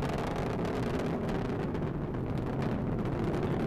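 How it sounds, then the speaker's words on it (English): A Delta IV rocket climbing after launch, its RS-68A engine and solid motors producing a dense, continuous broadband roar, distant yet powerful and steady, with no voices over it. "Continue to see good performance on the RS-68A engine."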